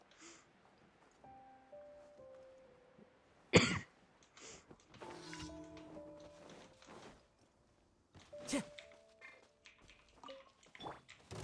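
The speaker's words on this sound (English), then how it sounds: "Too much cough." A few loud isolated coughs and throat-clearing bursts spaced apart over a quiet background of soft game tones and effects.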